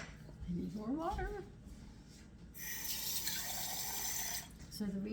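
A kitchen tap runs water while jasmine rice is being cooked, a steady gush in the middle of the clip, with a voice speaking before and after it.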